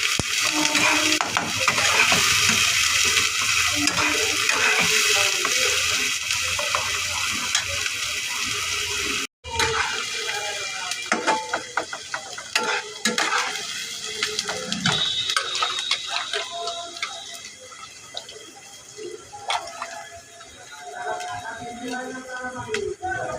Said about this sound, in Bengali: এবার এটাকে একটু খুন্তির সাহায্যে নেড়ে চেড়ে নিচ্ছি।